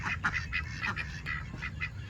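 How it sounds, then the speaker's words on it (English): Ducks quacking close by in a rapid, steady series of nasal calls, several overlapping voices over a low outdoor rumble. "I'll throw the ducks some food."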